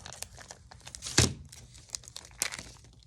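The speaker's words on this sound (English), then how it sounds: "I'm just going to take my transfer tape and I'm going to cut a strip off of it." A strip is cut from a roll of transfer tape, heard as close crinkling and rustling with one sharp tearing rip near the middle and a smaller one later, quiet and without speech.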